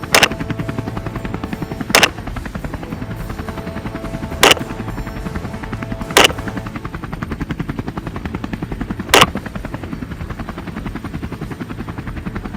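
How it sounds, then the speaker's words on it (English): Helicopter-mounted gun firing during a jungle buffalo hunt: five sharp, loud shots at irregular intervals over the constant close drone and chop of the helicopter rotor. "to pivot the gun, changing angles, firing a few more rounds"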